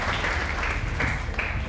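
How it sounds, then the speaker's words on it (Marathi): A crowd applauds at a judo camp event held at Shivaji Park, Dadar, with steady mid-distance clapping throughout. "त्यांची जोरदार टाळ्या होऊन जाऊ ह्याच्यासाठी"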